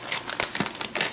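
Sheets of vellum paper crinkle and rustle as they are handled, a series of sharp, close crackles and soft crumples with no voices.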